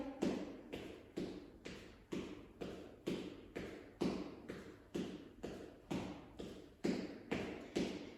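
Footsteps during an exercise warm-up walk land in an even, steady rhythm of soft thuds, roughly two per second, close and clear, with no talking.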